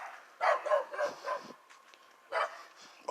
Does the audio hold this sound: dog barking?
yes